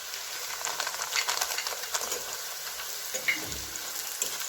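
Gentle, continuous sizzling of onion frying in hot oil, fairly quiet, with a few soft stirring scrapes and no talking.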